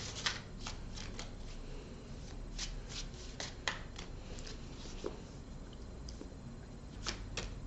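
Tarot cards being shuffled by hand for a reading, a close, quiet flurry of soft riffles and papery slaps with occasional sharper taps, alone without talk.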